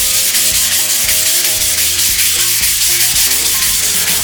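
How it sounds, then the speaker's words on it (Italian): Sanding skim coat plaster on an interior wall makes a steady, loud abrasive rubbing that runs without pause, with a tonal, musical hum layered underneath. "dobbiamo carteggiare fin quando il rasante applicato non diventa liscio e privo di graffi"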